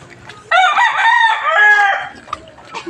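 A rooster gives one long, loud crow lasting about a second and a half, close by, with faint outdoor background noise before and after.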